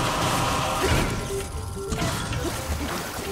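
A loud smash from the Zelda: Breath of the Wild game in the Hebra Mountains, a heavy crashing hit at the start, followed by a clattering decay and a brief rattle of game effects.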